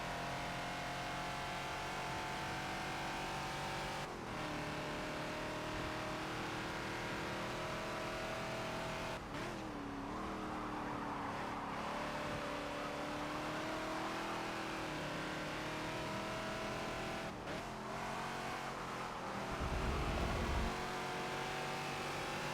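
A Ford Falcon XB in the Forza racing game runs at Watkins Glen, its engine droning loud and continuous through revs and gear changes, with pitch sweeps as it accelerates and downshifts in traffic, and no talk.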